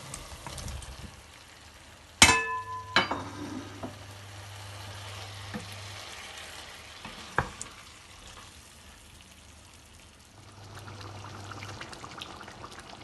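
Red chillies and kofta meatballs go into frying masala, a sharp clatter and splash of food dropping in, then a low sizzle with occasional knocks and a steady hum in the background.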